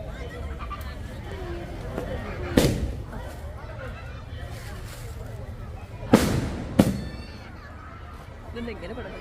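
Firecrackers bursting outdoors on New Year night: three sharp bangs, one early and two close together near the end, loud against a steady background of distant crowd murmur and voices.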